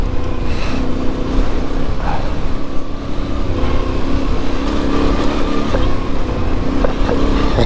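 An adventure motorcycle, one of a Voge DS800X Rally, Ducati Desert X or KTM 890R, accelerates hard across a farm field, its engine droning loud and close over steady wind rush for the whole stretch.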